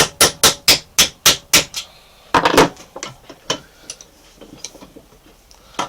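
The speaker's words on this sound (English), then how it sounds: "Then you want to knock out between the drill holes" An old broken flathead screwdriver is hammered to knock out the metal left between drill holes in a knife blank, giving a fast run of about seven sharp, close metallic strikes, then a short burst and a few lighter taps.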